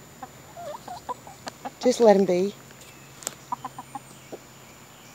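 Backyard chickens cluck in a short burst of throaty calls, with scattered softer clucks before and after, close by and moderate in volume while a person speaks briefly over them.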